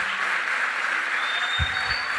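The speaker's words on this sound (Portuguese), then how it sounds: "vamos dar um aplauso para essa turma" A church congregation at a pastoral ordination service applauds the newly ordained pastors, a soft, steady wash of clapping with a couple of low thumps near the end.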